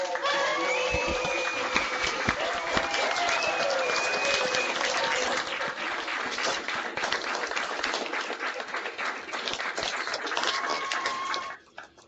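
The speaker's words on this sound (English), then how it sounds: "join me in giving a warm round of applause and saying thank you to Pro Football Hall of Famer" A crowd at a Pro Football Hall of Fame event gives a long warm round of applause for Hall of Famer Joe Green, dense clapping that holds steady for about eleven seconds before fading, with faint voices mixed in.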